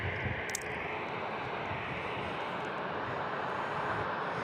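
A jet airplane departing San Diego International Airport, a loud, continuous engine roar sustained across the clip with a broad rushing hiss and no talk.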